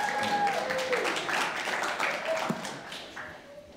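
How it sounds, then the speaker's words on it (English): A church congregation applauding its worship team: steady, dense clapping throughout, moderately loud and filling the room, with faint tonal sounds mixed in. "Give the worship team a round of applause."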